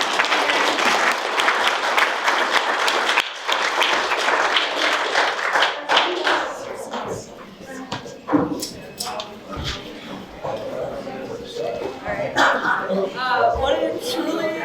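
Audience applause at an Appalachian spoken-word storytelling event, dense clapping filling the first few seconds, then thinning into scattered claps and noise with voices mixed in.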